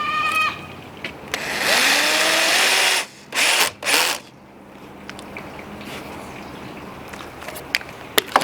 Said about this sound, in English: Now, I'm going to go ahead and drill the top in